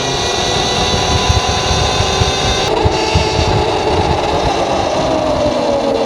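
A Talaria XXX electric dirt bike rides on asphalt, giving off a steady motor whine with tire and wind rumble. It is close and loud and holds constant throughout, with no talking.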